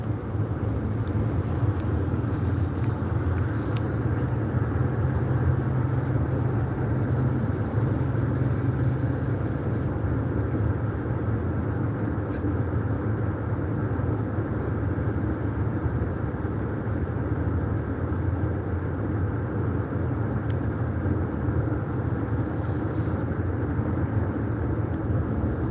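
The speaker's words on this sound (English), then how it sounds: "we are driving, guys" Steady in-car road rumble from a vehicle cruising along, continuous low drone with tire and engine noise throughout, no voices, level and unchanging for the whole stretch.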